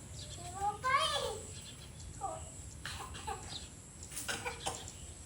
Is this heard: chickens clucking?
yes